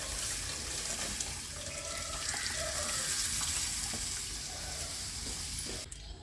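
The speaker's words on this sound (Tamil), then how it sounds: "கொஞ்சம் தண்ணி விட்டு மறுபடியும் நல்லா நல்லா கரைச்சிட்டு" Water is poured in to dissolve tamarind for a village-style cumin kuzhambu, heard as a soft, continuous trickling and splashing at low volume, with a short clatter near the end.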